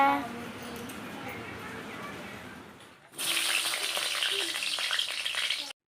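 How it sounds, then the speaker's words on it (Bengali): Potatoes frying in a home kitchen pan, first a quieter sizzle, then after a short lull a loud, bright, steady crackling hiss that continues close up, with a voice talking faintly underneath. "এখানে কিন্তু আমি আলুটা ভেজে নিচ্ছি"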